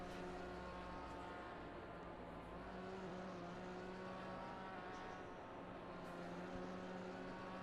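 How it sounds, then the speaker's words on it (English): GT4 race car in a racing video game at Zandvoort, its engine droning steadily and loudly throughout as it tries to spin its tyres, with no talking over it. "Trying to get these tyres to pop."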